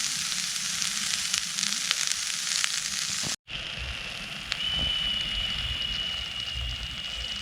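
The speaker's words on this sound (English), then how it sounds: "Onions are nicely softened and browning." Onions frying and browning in a small camping pan on a beach, a steady close sizzle and crackle throughout with a brief break partway, no talking.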